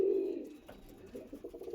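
An Andhra breeding pair of pigeons at a loft coos softly, with a low throaty coo opening the clip before quieter, fainter rustles and murmurs.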